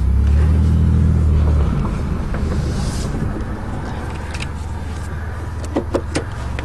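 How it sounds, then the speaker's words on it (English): Electric power seat motor in a Chevy car whirs steadily for about a second and a half, close and loud, then gives way to quieter interior rustles and a few small clicks. "this thing's even got power seats at work"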